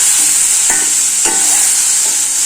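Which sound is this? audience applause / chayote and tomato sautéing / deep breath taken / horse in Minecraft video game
chayote and tomato sautéing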